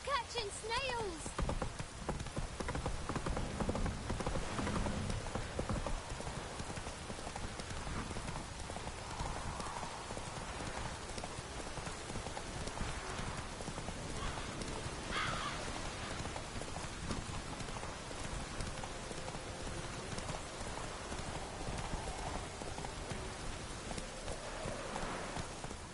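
Roach, the horse in the game Witcher III, gallops in a steady rapid clip-clop of hooves under a soft rain-like hiss, while a voice talks over the running hoofbeats.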